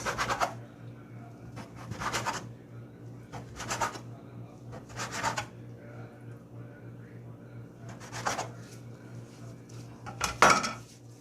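Bread dough being cut into ten balls on a kitchen worktop, heard as a series of sharp clatters and scrapes of a utensil against the counter every second or two over a steady low hum, with some rubbing in between.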